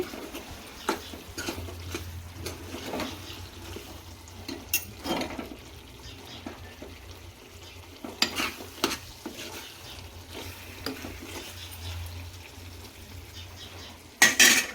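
Gundekayi fry being stirred with masala in a pan, with soft scraping and gentle sizzling that runs steadily, broken by a few louder utensil knocks near the end.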